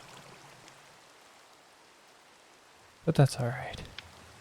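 Rain falling in the video game Minecraft, a soft, steady hiss throughout, with a voice speaking briefly near the end.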